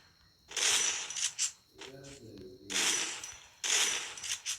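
Bursts of rapid gunfire from the Free Fire video game, three loud volleys separated by short quieter gaps with faint game sounds.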